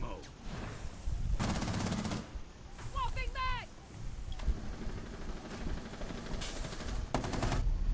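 Gunfire in Rainbow Six Siege on a presidential plane map, sustained bursts of rapid automatic fire that are loud and near, breaking off briefly midway and then resuming, with players talking over it.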